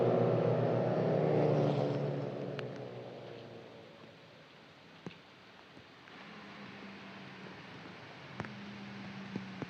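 Renault Clio Cup race cars from the 2021 Clio Cup Europe season on a cool-down lap at Monza: a loud broadband engine roar at first that fades into the distance, leaving a quieter, steadier hum with a few faint clicks.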